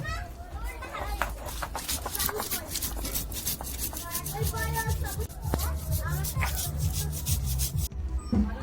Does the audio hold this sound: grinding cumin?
yes